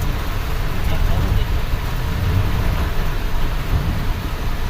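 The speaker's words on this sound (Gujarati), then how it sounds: "આવો વરસાદ છે હાઈવે ઉપર" Steady heavy rain roaring over a roadway, with a dense continuous wash of noise and low rumbling traffic underneath.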